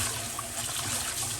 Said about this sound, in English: I'm just going to rinse mine off till the water is clean.